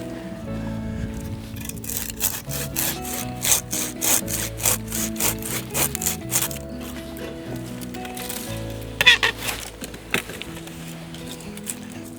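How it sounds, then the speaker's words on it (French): A hand saw cuts through a climbing rose branch in steady back-and-forth strokes, rasping and fairly close, with a brief pause and a few final rough strokes. "Je vais donc utiliser ma scie égoïne."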